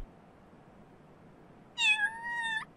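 A kitten in the video game Little Kitty, Big City gives one drawn-out, clear meow, close and alone after a quiet stretch of faint background hum.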